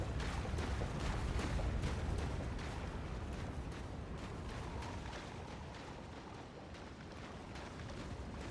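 Artillery carpet bombing in the fantasy action game Elden Ring: Shadow of the Erdtree rolls on as a continuous, heavy rumble, with close booming impacts early on that settle into a sustained roar.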